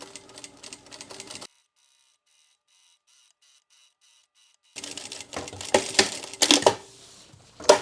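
A sewing machine stitching zipper tape in short bursts, a rapid mechanical whir and clatter for about a second and a half, then a long pause, then several more louder runs of stitching.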